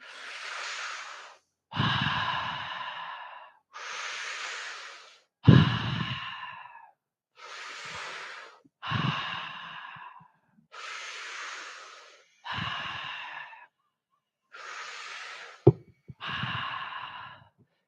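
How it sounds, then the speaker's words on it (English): Deep breathing in a breathwork session: about ten loud, close breaths that alternate between hissing inhales and heavy, sighing exhales in a steady, quickening rhythm, with short pauses between them. "we're gonna accelerate the speed and we're gonna start breathing faster"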